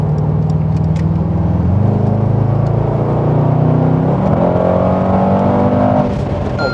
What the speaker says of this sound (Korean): 중저음의 배기음이라 해도 사자 연상케 하거든요